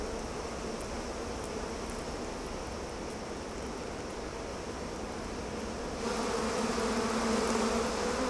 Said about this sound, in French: Les abeilles du Népal sont les plus grandes de la planète.